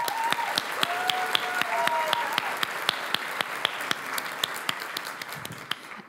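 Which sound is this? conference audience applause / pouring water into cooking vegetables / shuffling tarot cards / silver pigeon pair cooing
conference audience applause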